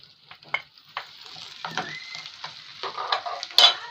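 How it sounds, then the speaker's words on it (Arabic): Carrots sautéing with garlic and onion for lentil soup sizzle softly while a spoon scrapes and stirs the pan in repeated strokes, close and alone, building slightly louder near the end. "بعد بقى ما شوحت كده الثوم اللي عندي والبصل هننزل بقى بجزر"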